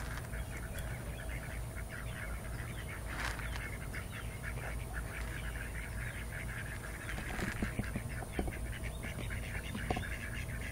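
Ducks quack in a busy, continuous chorus outdoors, with many overlapping calls at a steady moderate level and no talking.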